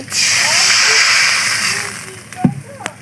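A loud, steady frying hiss of dried fish in a pan fills the clip, easing slightly toward the end, followed by a couple of sharp clinks.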